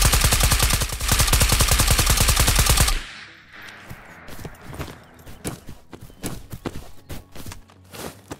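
Gunshots fired from a distant hill, heard as scattered sharp cracks and thuds at irregular intervals after a loud, steady, rapid rattling burst at the start.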